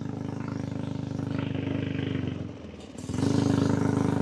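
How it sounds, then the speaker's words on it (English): Homemade two-wheel-drive minibike engine warming up at idle, a steady close putter with a brief dip and then a slightly louder, higher rev, no talk over it. "I'm letting the motor warm up"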